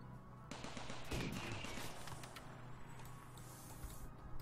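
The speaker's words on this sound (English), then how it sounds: "All four turrets should be able to deal with this thing." Four automated turrets firing in RimWorld, a steady rattle of rapid gunfire with a sharp burst near the start that continues over a constant game hum.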